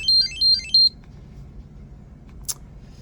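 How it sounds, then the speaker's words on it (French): A Google TV Streamer remote rings after a phone locate search: three quick bursts of high electronic beeping, then a single short click, followed by near silence. "Là, là votre manette, elle va sonner."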